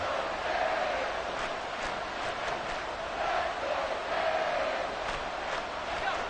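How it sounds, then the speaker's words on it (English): Football stadium crowd during a game, a dense sustained roar of cheering and yelling that swells and ebbs steadily throughout, with no clear talk over it. "this crowd is making an impact right now"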